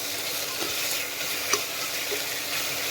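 Tomatoes cut into wedges sauté in a pan for biryani, a dense, even sizzle heard close with a faint stir or two and no talking.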